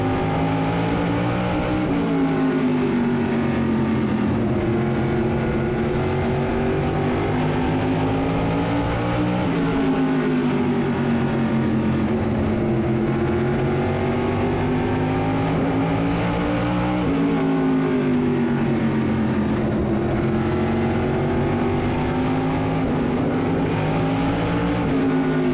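Modified race cars running side by side in a big field, their loud engines droning continuously with rising and falling pitch as they pass through each lap, close and with no talking.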